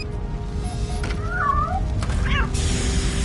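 Cat meowing in RoboCop: Rogue City, a couple of short, clear meows rising and falling in the middle of the clip over steady low game ambience and rumble.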